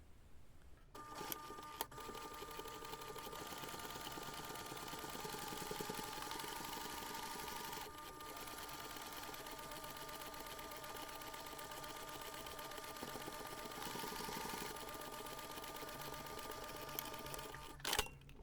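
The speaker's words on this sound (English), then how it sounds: "you're going to start here, stitch all around and end here" Sewing machine stitching continuously around a small snap pouch, a steady, even mechanical whir that runs for most of the stretch with only slight pauses.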